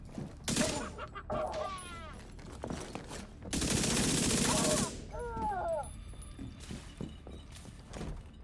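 Backfire submachine gun fire in The Division 2, with bursts of rapid shots, a long sustained volley in the middle, and scattered in-game voice callouts and mechanical clicks between them, loud and close.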